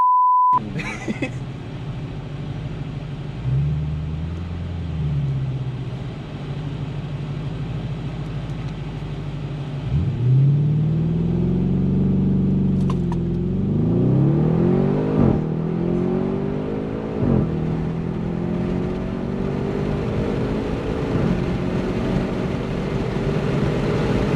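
A 600 hp Audi RS6 idles, then revs up hard, climbing through several gear shifts as it accelerates loudly and steadily for many seconds.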